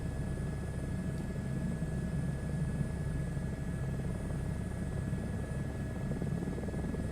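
Steady, loud drone of an aircraft in flight at night, cruising at around 116 to 120 knots, with a constant engine and propeller roar and faint tonal hums filling the whole stretch without pause.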